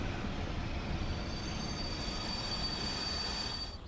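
An ÖBB 1020 locomotive brakes in the Train Sim Germany Mittenwaldbahn game, with a thin steady squeal of wheels over a low rumbling roll that fades slightly at the end.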